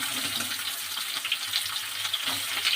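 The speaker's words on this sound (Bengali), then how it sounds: "তেলটা গরম হয়ে গেছে না? আলুগুলো একটু ভেজে নিচ্ছি আগে।" Potatoes frying in hot oil for a Bengali potato and pea curry, a steady close hiss and crackle of sizzling that runs without pause.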